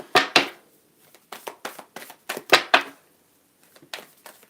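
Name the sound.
shuffling tarot cards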